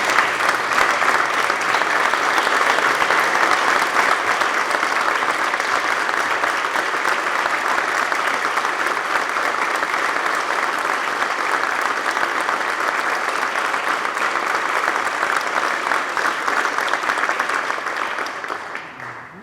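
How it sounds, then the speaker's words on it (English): Sustained applause fills the Senate chamber for Korean War veterans, a dense, steady wash of many hands clapping at full volume that holds for nearly twenty seconds before tapering off at the end. "I would ask everyone another round of applause for our Korean War veterans"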